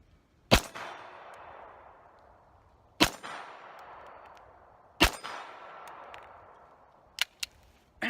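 HK45C pistol fired in a shooting comparison, three sharp loud shots spaced about two seconds apart, each ringing out briefly, followed by a couple of quick metallic clicks.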